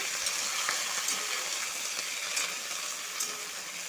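Cauliflower, potato and tomato fry in a pan with five-spice and a bay leaf, giving a dense, continuous hiss and sizzle while being stirred, with no talking.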